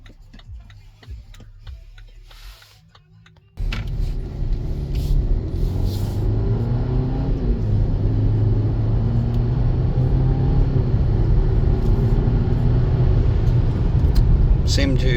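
A white 2018 BMW X1 with badly worn tires on a road test: a soft steady ticking inside the quiet cabin at first, then a sudden jump to loud, continuous engine and road rumble as it pulls away and keeps driving.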